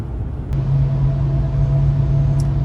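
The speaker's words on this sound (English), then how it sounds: "Going through the Allegheny Mountain Tunnel right now." A turbocharged Corvette C6 Grand Sport cruises through the Allegheny Mountain Tunnel, giving a steady, enveloping low engine and road rumble with a constant droning hum and no break.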